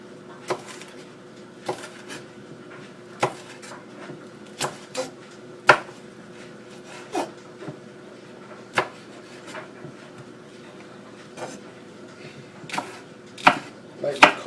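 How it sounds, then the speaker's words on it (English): A knife cuts and slices an onion on a board in a series of separate, irregularly spaced thuds and knocks, clustering more tightly near the end, with a quiet background in between. "You're going to cut it and slice it towards you."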